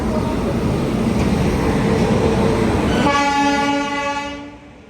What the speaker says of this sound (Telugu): మన ట్రైన్ అయితే వచ్చేసింది ప్లాట్ఫామ్లోకి.